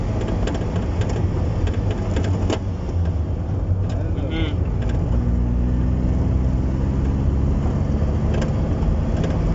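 A car engine hums and builds steadily while pulling away in a new gear on a London road during a driving lesson, a continuous rising drone with muffled cabin noise and talk over it.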